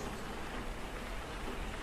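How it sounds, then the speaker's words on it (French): Heavy rain falling in a video game benchmark scene, a dense even hiss of drops pattering on surfaces, continuous and fairly quiet, with no talk. "Et la pluie est battante. Regardez, il pleut, il pleut, il pleut."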